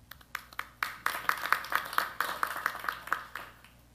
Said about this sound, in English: It's good to get the applause out of the way early